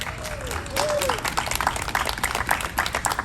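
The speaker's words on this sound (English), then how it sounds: "let's cheer for small town Pride." A small crowd at an outdoor Pride Month celebration in Cobourg claps and applauds in a brief burst, with a few voices and whoops over the clapping.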